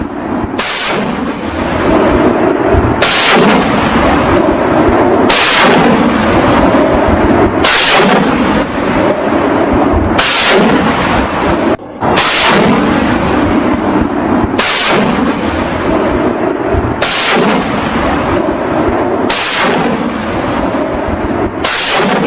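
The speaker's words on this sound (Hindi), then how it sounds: "तालिबानी काबुल में हवाई फायरिंग करते नजर आ रहे हैं" Celebratory aerial gunfire by Taliban fighters in Kabul: loud, sharp bursts of shots recur roughly every two to three seconds over a constant, dense roar, with no voices.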